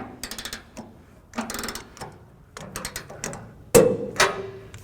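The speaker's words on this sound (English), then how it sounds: "we'll go ahead and finish torquing down the rest of the bolts" A wrench torquing down trailer hitch bolts on a 1996 Chevrolet truck, heard as scattered close metallic clicks and ratcheting taps, ending with a sharp clank and a brief ringing metal tone.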